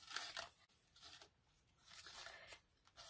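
Scissors snip and crinkle through a brown paper lunch bag in a few short, close, quiet bursts separated by brief pauses.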